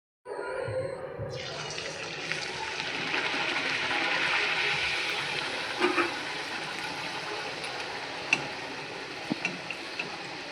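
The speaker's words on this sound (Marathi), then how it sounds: "पुरी लाटून झाली आहे तेला सोडून घ्यायचे" Potato puri for a fasting meal fries in hot oil with a continuous bubbling sizzle that starts abruptly and holds steady, broken by a few faint clicks and taps.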